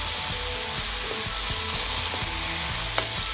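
Onion wedges fry in a hot pan for a sesame beef stir fry, a dense loud sizzle with rhythmic spatula stirs and taps against the pan, close up and without speech.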